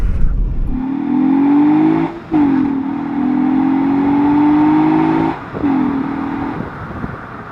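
Honda engine with a custom-fabricated exhaust and prominent intake noise, revving loud and close: a steady droning whine that climbs in pitch, broken by two brief dips like gear shifts, with no voices.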